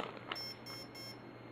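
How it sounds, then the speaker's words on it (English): Beeps from an Align electronic speed controller during programming mode, a brief electronic chirp early on over a steady faint hiss, with no voices. "now it's going to go 3 beeps for the third mode, which is the cutoff"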